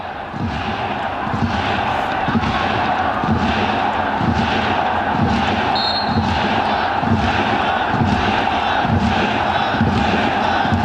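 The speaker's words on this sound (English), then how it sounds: "Crowd are really enjoying that." A football stadium crowd at a Vietnam versus China AFC U-23 Asian Cup match roars and chants in a steady rhythm, with regular thumping beats under a constant loud wash of cheering.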